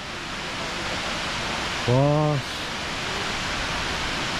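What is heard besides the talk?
Tumpak Sewu waterfall in Indonesia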